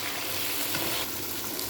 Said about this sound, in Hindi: अब हम इसको अच्छी तरह भूनेंगे।